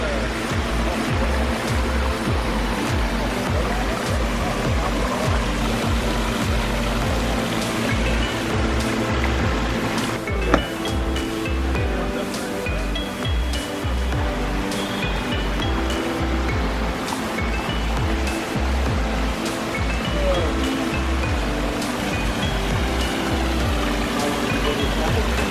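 A backyard pondless waterfall built with a large pond kit, variable pumps and big stone steppers, giving a steady, dense rush of falling and splashing water that holds evenly loud throughout, with no voices over it.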